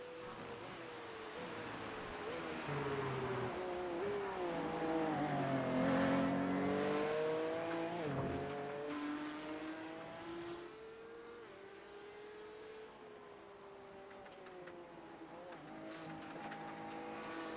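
A Porsche Cup race car laps Virginia International Raceway in a sim racing series, its engine revving loud and close with rising and falling pitch sweeps through gear changes, plus brief tire squeal.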